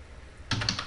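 A few quick keystrokes on a computer keyboard as a folder name is typed, a short close burst of clicks starting halfway through after near silence, with no talk.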